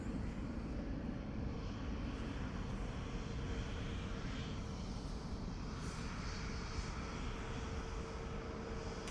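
A Ryanair airliner arriving at Dublin Airport from Birmingham makes a continuous broadband engine roar at moderate distance, steady throughout with no talk.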